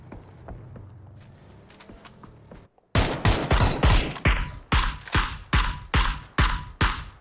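Rapid bursts of gunfire in PUBG during a tournament match, loud close shots arriving in a fast regular rhythm after a brief quieter stretch of muffled game sounds.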